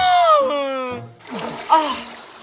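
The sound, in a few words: splashing water while bathing in a river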